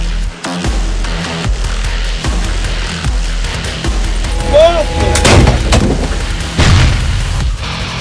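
Artillery gun firing on a frontline position near Avdiivka, a loud booming shot amid constant battlefield noise, with voices shouting in the background.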